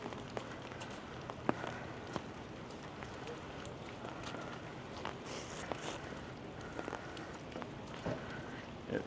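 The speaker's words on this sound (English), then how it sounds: "It is still raining." Rain falling on a Vancouver street, a continuous patter with scattered drips and splashes while footsteps walk through it, fairly quiet and steady.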